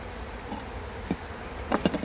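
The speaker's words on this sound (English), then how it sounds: "there's so many bees in it, I got to get them out" Honey bees buzzing around an open beehive during a pre-winter hive check, a constant faint drone with a few louder bees passing close by in brief swells near the end.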